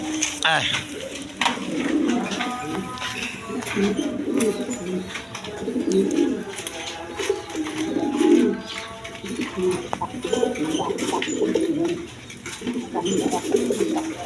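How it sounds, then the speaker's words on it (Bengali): Pairs of fancy pigeons, including a colored gola pair, coo repeatedly in soft rolling throaty calls close by, with someone talking over them at times. "কবুতরগুলো খুব ডাকা ডাকে"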